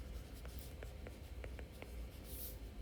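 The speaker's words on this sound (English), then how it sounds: "so I'm gonna write the equation" Hand-writing an equation while solving a math problem: a series of faint, short pen or pencil strokes scratch at an uneven pace over a steady low background hum, with no talking.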